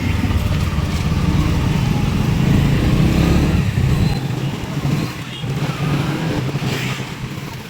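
Dense road traffic during a chariot festival in Jalgaon, with cars and motorcycles rumbling and droning continuously nearby, loud and steady, easing a little toward the end.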